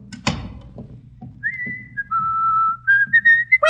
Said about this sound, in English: Do you think you should whistle so loudly